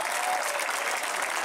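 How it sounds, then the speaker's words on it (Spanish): Steady applause fills the air for the winner of the ATP Challenger Tour Finals tennis tournament, a dense, even patter of many clapping hands that holds without a break. "Uma salva de palmas para o vencedor do torneio, o italiano Filippo Bolani."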